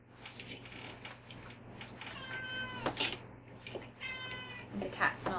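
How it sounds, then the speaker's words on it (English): A cat meows several times at close range beside an opened can of mustard sardines, short rising calls under a steady low hum, with people talking nearby. "The cat smells fish."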